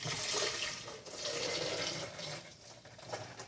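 Liquid poured from a blender jar into another container, a steady splashing, trickling stream close by for the whole stretch, surging and easing as the flow changes.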